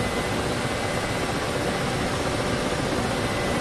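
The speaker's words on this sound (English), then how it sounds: "bearing in mind it is a big, heavy helicopter" A Ka-50 Black Shark, a big heavy coaxial helicopter in DCS, drones steadily from the cockpit, its engines and rotors forming a loud constant whine-and-rumble without variation throughout.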